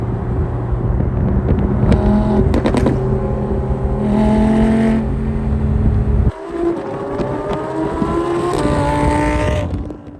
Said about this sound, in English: I do actually have an exhaust on this vehicle to make it just that little bit louder